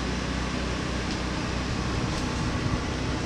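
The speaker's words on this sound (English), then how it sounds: "We got the air conditioner running." An air conditioner runs inside a mobile coffee trailer, giving a steady, even broadband hum and whoosh of blowing air that holds at one level throughout, with no talk over it.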